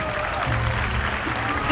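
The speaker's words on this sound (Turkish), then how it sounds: "Gamze için büyük bir alkış." Applause for a business department graduate who placed first, at a university faculty graduation ceremony in Düzce; a steady wash of clapping from the audience with voices underneath, swelling slightly at the end.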